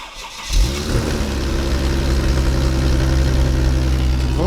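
A Mercedes car engine turns over and settles into a loud, rumbling cold idle close by, its exhaust burbling steadily with a rough low throb.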